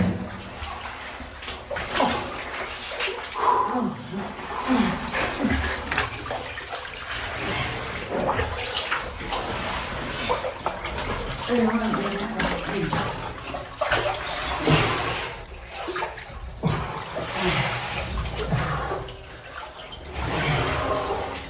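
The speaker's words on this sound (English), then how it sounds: "The crawl through the water that we had to go through to get to the waterfall." Water sloshing and splashing steadily around a person crawling through a cold cave passage on the way to an underground waterfall, close and continuous throughout, with faint voices now and then.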